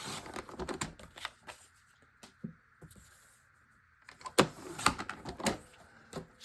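A paper cutter or trimmer slices a photo print for a nautical summer scrapbook layout, giving sharp close clicks and scraping strokes, with a whirring slide of the blade in the middle and a louder cluster of snaps near the end.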